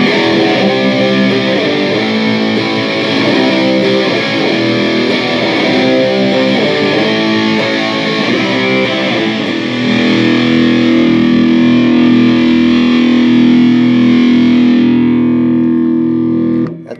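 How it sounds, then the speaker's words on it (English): A heavily distorted electric guitar through a Boss ML-2 Metal Core pedal plays loud, chugging metal riffs, then settles into a sustained ringing chord that cuts off abruptly. "Next, let's try the Boss Metalcore, the ML2."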